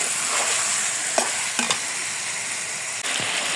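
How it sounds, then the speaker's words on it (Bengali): Chicken pieces fry in a hot pan with salt, a steady loud sizzle running throughout, broken by a few sharp scraping clicks of stirring; no voices. "দেখেন মাংসটা আমি ভালো মতো কিন্তু ভেজে নিচ্ছি।"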